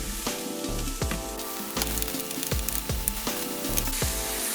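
Garlic and mushrooms fry in oil alongside caramelizing onions, giving a loud, continuous sizzle with regular scraping and stirring knocks throughout.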